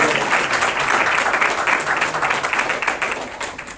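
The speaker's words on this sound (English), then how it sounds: "Let's give him a quick round of applause." Audience at an ISKCON festival gathering giving a quick round of applause, dense clapping that stays loud and then gradually thins out toward the end.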